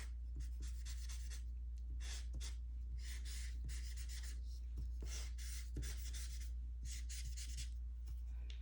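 Mr. Sketch markers stroke across paper in a steady series of scratchy, squeaky drawing passes, close and clear with short pauses between strokes and no voices.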